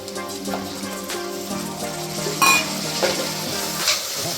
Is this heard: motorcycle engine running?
no